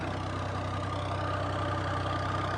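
A tractor's steady, low engine idle drones without change, a continuous rumble with a faint mechanical hum on top.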